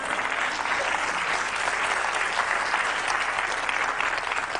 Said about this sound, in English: Go ahead and clap. You want to clap.